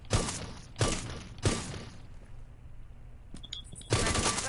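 Gunshots in Rainbow Six Siege fired through a window at targets, three sharp reports about half a second apart, then a pause and a fourth shot, loud and close.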